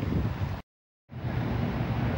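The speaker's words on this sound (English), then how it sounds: "And it's turning really windy again." Gusty wind buffeting close by as a broad rushing roar, cut off briefly by a short silence before it returns.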